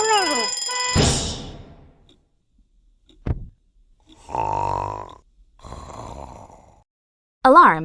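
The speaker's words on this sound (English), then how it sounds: "An alarm is a loud sound that tells you to do something, like move over for a fire truck or wake up to go to school." An alarm clock rings in short electronic bursts between quieter gaps, with a snort-like sound and a brief rising tone, loud and close in a children's phonics lesson.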